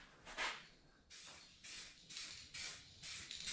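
Car parts get spray painted in short bursts, about six separate hissing sprays with brief pauses between, close and fairly quiet.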